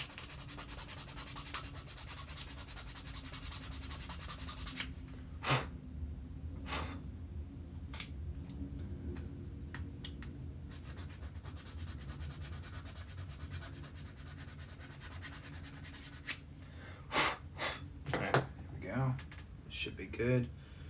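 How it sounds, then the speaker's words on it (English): Sanding a small piece of a toy foam blaster by hand, a steady soft scratchy rub running through most of the clip with a few sharper clicks and knocks near the end; a voice talks over it. "Let's sand this piece real quick."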